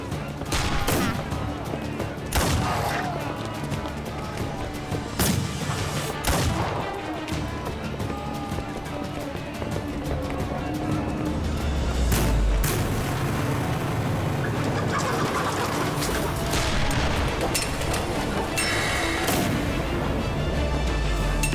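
Repeated bursts of gunfire and artillery booms crack through a TV war drama battle scene, irregular and loud, with chaotic background noise and occasional voices.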